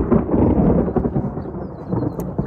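Deep rolling thunder rumbling through a thunderstorm over an open field, a loud sustained low growl lasting a few seconds with faint rain underneath.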